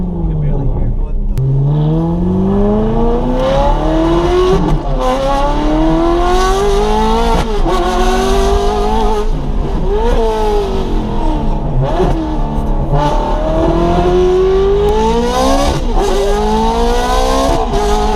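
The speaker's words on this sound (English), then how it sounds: "You guys can hear this Ferrari" Ferrari engine revving hard while driving, loud and close, pitch climbing and dropping repeatedly through gear changes, with voices talking over it.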